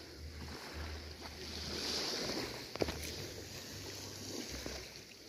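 Sea waves washing onto the shore in summer weather, a broad steady hiss of surf with wind, moderately loud and continuous, with one sharper splash near the middle.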